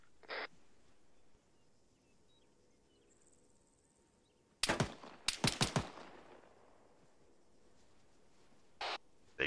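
Gunfire in Arma 3: a lone distant shot, then a tight cluster of sharp cracks a few seconds later and another single report near the end, over quiet ambient insect-like background.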